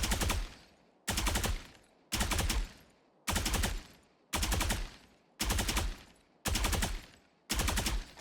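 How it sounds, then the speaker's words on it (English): Eight evenly spaced single shots from Phantom and Vandal rifles in the shooter Valorant, each a sharp loud crack with a short decaying tail, about one per second, clean and without talk. "shoot 5 bullets with the Phantom or Vandal"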